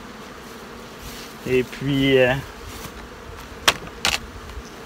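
Honeybees cover a frame in a ten-frame hive being inspected, their low continuous buzz running under a man's brief speech and a couple of sharp handling knocks.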